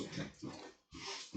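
A dog whimpering and snuffling just behind a nearby door, short breathy whines in quick bursts with a brief pause between them.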